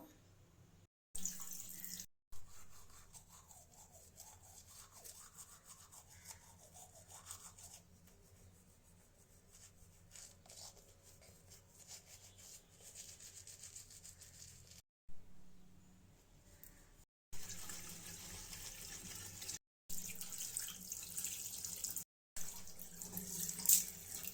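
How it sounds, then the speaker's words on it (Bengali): Tap water runs into a bathroom sink while teeth are brushed during a morning routine, a steady hiss with soft scrubbing, interrupted by several brief silent gaps, with no talking. "এরপর ফার্স্টে ব্রাশ করে নেব"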